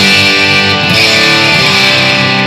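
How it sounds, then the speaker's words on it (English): A loud, thick electric guitar chord played through a boost pedal rings out and sustains with a boosted, slightly gritty tone, held steady for a couple of seconds. "So I'm going to hit the boost pedal."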